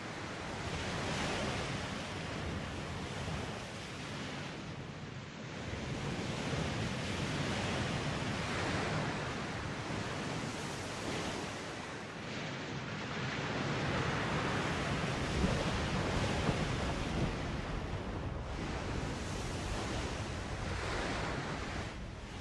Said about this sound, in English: Just gently welcome it back to the sound of the waves